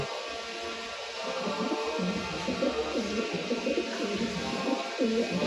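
Racer pigeons coo in low, repeated rolling calls close by, growing busier toward the end over a steady background hiss.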